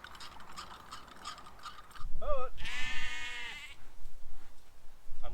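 Lambs bleating loudly and close by during weaning, a couple of wavering cries rising out of rustling and mechanical clatter around a pen.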